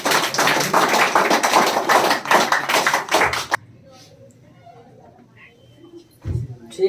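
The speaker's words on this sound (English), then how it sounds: "Clap for him." A classroom of students applauds a classmate during a spoken English lesson, a dense burst of clapping lasting about three and a half seconds before cutting off abruptly, followed by quiet room noise and a brief thump.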